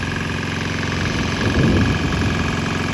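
A cheap Chinese diesel engine running on canola waste oil chugs steadily at close range, a loud rhythmic knocking idle that swells slightly toward the middle.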